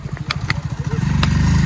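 Close motorcycle engine running steadily with a throbbing low rumble that builds slightly toward the end, with brief clattery bursts over it.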